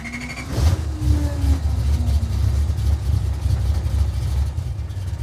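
Car engine idling after being started, a steady low rumble held close and constant, with a brief faint whine early on.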